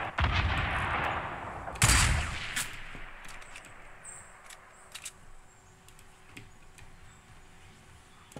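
Sniper gunfire in the Fortnite battle royale game: one loud, sharp shot cracks out near the start, followed by a long fading tail and a few faint, scattered ticks and small impacts.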